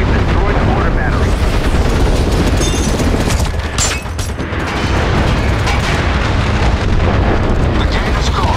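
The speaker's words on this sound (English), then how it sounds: "We've rigged the gate with charges." Gate charges detonate in a large-scale battle of the PS3 shooter MAG, a loud continuous roar of blasts and rumbling booms with scattered gunfire, filling the whole stretch with dense battlefield noise and no quiet gaps.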